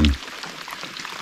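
Rain falls steadily at a riverside backcountry campsite, a soft, even hiss of drops that continues after a brief louder bump at the start, with no voices.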